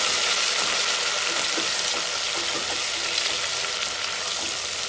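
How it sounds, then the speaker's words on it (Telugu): Fenugreek seeds and curry leaves fry steadily in hot oil in a pan for a drumstick and tomato curry, a continuous dense sizzle with small pops and crackles, close and fairly loud with no voices. "ఇప్పుడు ఇందులోనే మెంతి కరివేపాకు వేసుకోవాలి ఇది కూడా ఫ్రై కావాలి"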